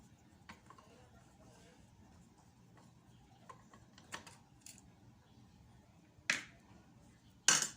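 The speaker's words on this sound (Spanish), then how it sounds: "Con ese modo plano se retira los tornillos." A flat screwdriver works screws out of an old Taiwanese-made Kenmore sewing machine, giving faint scattered metallic clicks and ticks in a quiet room, then two sharper, louder snaps near the end.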